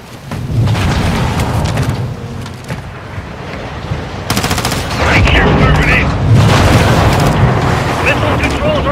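Heavy gunfire and deep booms fill a Call of Duty: Modern Warfare II campaign firefight, with loud rattling bursts layered over one another and voices calling out partway through.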